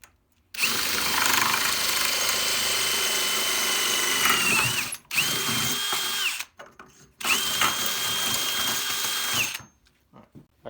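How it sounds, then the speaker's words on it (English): Power drill boring a hole in wood for a homemade e-brake build, three long loud steady whirring runs separated by short pauses, close up with no talk. "I'm gonna take and drill a hole in this"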